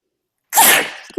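A single loud, close human sneeze bursts out after a moment of silence, a sharp breathy blast that fades quickly, with a voice starting right at the end.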